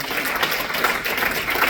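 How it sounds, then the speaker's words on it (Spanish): A church congregation applauds loudly, a steady wash of dense clapping that fills the whole brief moment with no break. "Dale un fuerte aplauso a Rey de Reyes."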